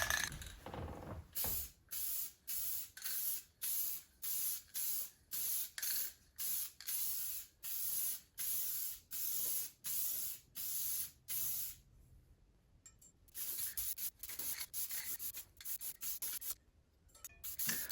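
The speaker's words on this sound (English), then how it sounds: "So I've got some green spray paint here that should be a pretty good color match." Green spray paint is sprayed from a can onto an old Craftsman 9 HP snowblower part in a long series of short, close, hissing bursts with brief gaps, followed by a few longer sprays.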